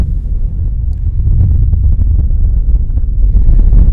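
Strong wind buffets the microphone with a constant low roar and rumble, loud and unbroken throughout.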